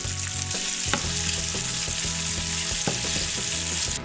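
Bacon just starting to fry in a pan on a stovetop, a dense steady crackling sizzle, close and even, with a faint low hum underneath and no talking.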